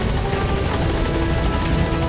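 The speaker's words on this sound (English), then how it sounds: "Support helicopter has arrived." A support helicopter arrives in the Metal Gear Solid V video game, a loud, close, steady rotor thrum and engine whine filling the scene without any talk.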